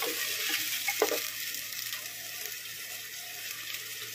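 Dry spices go into a pan of frying ginger, garlic and onion for a goat meat and taro curry, giving a steady close sizzle with soft stirring scrapes and a brief clink near the start, and no one talking.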